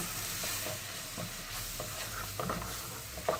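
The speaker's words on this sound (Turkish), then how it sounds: "yemek kaşığı unumuzu koyuyoruz. Birazcık da bu şekilde kavuracağız." Two spoonfuls of flour are toasted and stirred in a pot for mushroom soup, producing a soft, low sizzle with faint rhythmic scraping of the spoon; quiet and nearby, no speech.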